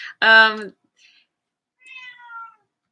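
A cat lets out one loud, clear meow up close, followed after a pause by a softer, drawn-out second meow.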